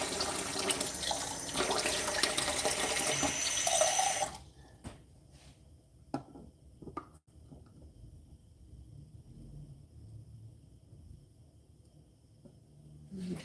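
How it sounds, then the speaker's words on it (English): A kitchen tap runs cold water in a loud steady rush into a measuring cup for about four seconds, then shuts off, leaving faint drips and small clinks in a quiet room. "You're going to add cold water to bring it up to that line."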